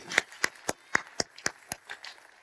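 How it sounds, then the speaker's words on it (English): Audience applause after a talk, heard as about ten sharp, evenly spaced claps, fairly close and moderately quiet, fading toward the end with no talk. "Let's give a round of applause."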